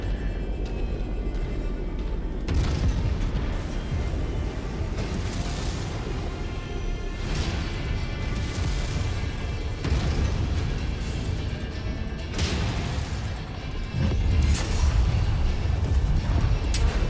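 Repeated heavy blasts and rumbling booms as targets are destroyed in the mech combat game MechWarrior 5, a dense, loud battle din with several distinct bursts layered over continuous roar and no voices.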